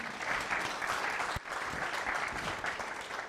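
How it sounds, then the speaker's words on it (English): Audience applause at an evening marketing talk in Sheffield, steady and dense for over three seconds, a broad wash of many hands clapping close by with a brief dip midway. "Another round of applause."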